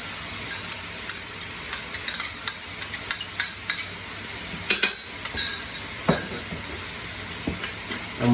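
Four garlic cloves sizzle in a pan over low-to-medium heat, a steady soft frying hiss broken by occasional stirring scrapes and clicks, close by with no talking.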